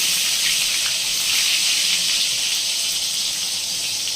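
Brinjal (eggplant) slices fry in hot oil, making a loud, unbroken hiss that holds steady throughout with no voices.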